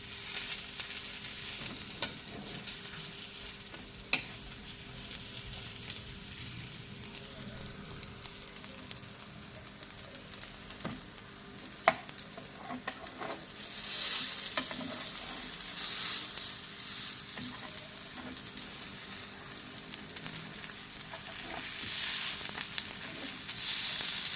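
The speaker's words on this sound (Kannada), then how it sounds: "ನೋಡಿ ಒಂದು ಸೈಡ್ ಫ್ರೈ ಆಗಿದೆ ಇನ್ನೊಂದು ಸೈಡ್" Fish fries on a flat tawa with a little oil, the close sizzle steady and hissing throughout, with occasional clicks and a louder, brighter stretch partway through.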